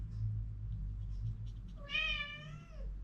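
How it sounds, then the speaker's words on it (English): A cat gives a single drawn-out meow, close by, over a low background hum. "she'll just sit meowing at me till I pay it lots of attention"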